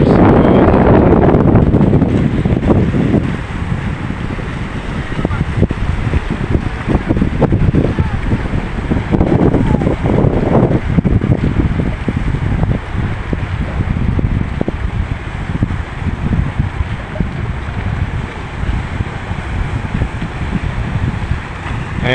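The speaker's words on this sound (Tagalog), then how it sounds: "Palakas na rin ng habagat dito sa Bulan" Strong southwest monsoon wind gusts across the Bulan fish port in Sorsogon, a loud continuous roar and buffeting on the microphone that is heaviest at the start, with a faint low rumble from water or boats beneath.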